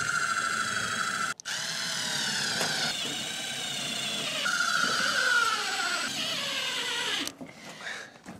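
A power drill drives screws into metal roofing on a mountain cabin, a long whining spin that rises and falls in pitch across two runs broken by brief stops, close and fairly loud with no talking.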